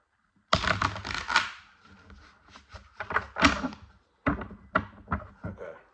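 Tarot cards being shuffled before a reading, a few quick bursts of crisp riffling and tapping clatter in short separate runs, close and fairly quiet, with no voice.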